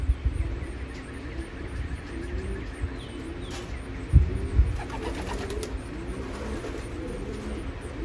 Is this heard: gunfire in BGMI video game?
no